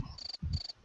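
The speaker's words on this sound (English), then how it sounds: "crickets!" Cricket chirping sound effect, two short high trilling bursts in quick succession, clear and close, used as a comedic cue.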